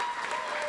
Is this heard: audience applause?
yes